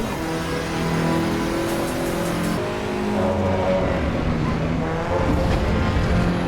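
A Delta race car in the Assetto Corsa Evo racing video game drives with a continuous engine drone that rises and falls with throttle, steady and moderately loud throughout.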